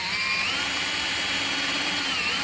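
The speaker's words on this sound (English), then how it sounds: "I'm just going to drill straight down through here." A power drill with a 2 mm bit whines steadily as it bores straight down through wood, loud and close throughout with no pauses or talk.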